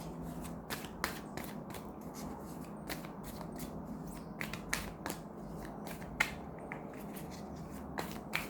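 Tarot cards being shuffled produce a quick, uneven run of crisp riffling clicks and soft slaps, fairly close and quiet, with no talk over them.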